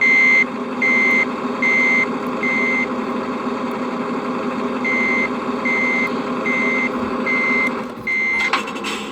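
Reversing beeps from a Tamiya Volvo FH16 8x4 RC tow truck fitted with a Servonaut sound module: evenly spaced beeps repeat over a steady engine hum, stop briefly, then resume, with a short clatter near the end.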